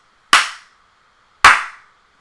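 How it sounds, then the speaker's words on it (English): Two sharp hand claps in a room for a clap test, about a second apart, each loud and close with a short ringing decay into silence. "You could actually go and literally just walk into a room and one single clap or 2 claps"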